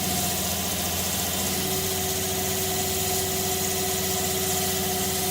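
Grinder running at 2800 RPM while putting a simple edge on a lightweight neck knife blade, a steady loud continuous motor whine with strong tonal hum, no talking.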